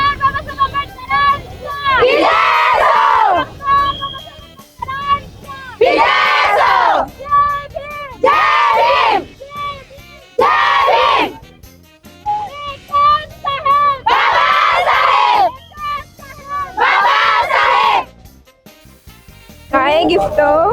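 A crowd at a Bhim Jayanti celebration in Solapur shouts slogans loudly in repeated bursts of massed voices, separated by short pauses, close and forceful throughout.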